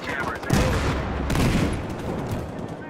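Gunfire from a Battlefield video game, a dense stretch of rapid shots and bursts with loud peaks near the start and middle, a heavy continuous crackle of combat.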